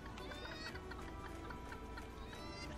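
Chickens in the video game Secrets of Grindea cluck repeatedly in quick, faint, overlapping calls set against a steady game background.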